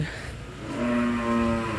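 Cattle in a pen at evening, one loud drawn-out moo held for over a second close by, with soft farmyard background and no talking.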